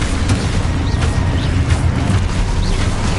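A Confringo blasting spell explodes in a PS5 Harry Potter game: a loud, continuous deep rumbling roar of blast and debris that holds steady throughout, with no speech.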